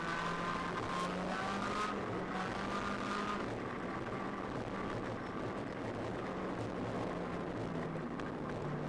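A ChampCar endurance race car runs at Gingerman Raceway, its engine droning steadily with a faint, muffled whine that sounds slightly off, and no talking over it.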